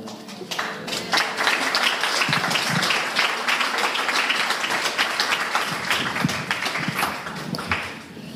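A church congregation applauds after a worship song, many hands clapping in a lively, sustained burst with individual claps standing out, tapering slightly at the end.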